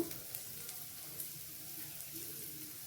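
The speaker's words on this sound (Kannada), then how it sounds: "ಟೀ ಸ್ಪೂನ್ ಎಣ್ಣೆ ಈ ಥರ ಹಾಕಿ ಫ್ರೈ ಮಾಡಬೇಕು." Bitter gourd (hagalkai) slices frying in a teaspoon of oil over a slow flame, a faint, even sizzle with a few soft ticks, quiet and continuous.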